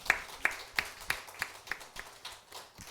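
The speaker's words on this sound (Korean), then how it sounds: "박수 한번 주세요." Congregation clapping during a Sunday church service, a quiet, rhythmic run of about eight evenly spaced claps, fairly faint, with no talking over them.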